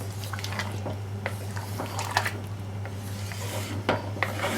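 Boiled potatoes and chickpeas are stirred together in a pot for a Pakistani halwa puri breakfast curry, giving soft wet squelches and scrapes of a spoon against the metal, close and irregular over a steady low hum.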